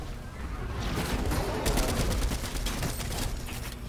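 Rapid bursts of gunfire from an opponent's weapon in the Fortnite video game, a dense run of repeated cracks from about 1.6 seconds onward over a steady game background, with faint talk underneath.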